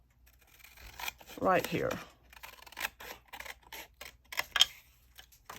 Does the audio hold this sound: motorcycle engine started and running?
no